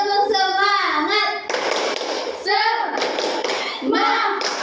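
A class of children claps and chants a rhythmic "tepuk semangat" cheer, with bursts of broadband clapping between sung, chanted voices that dominate much of the clip.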